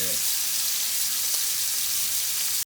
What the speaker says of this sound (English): I'm just going to sear it all the way around